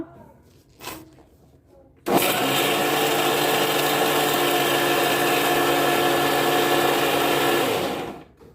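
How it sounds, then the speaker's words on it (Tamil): A mixer grinder blending coconut chutney whirs loudly and steadily for about six seconds, then winds down; a brief knock comes just before it starts. "சேர்த்ததும் மறுபடியும் மிக்சி ஆன் பண்ணலாங்க."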